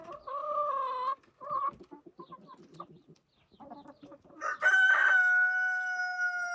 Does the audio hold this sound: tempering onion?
no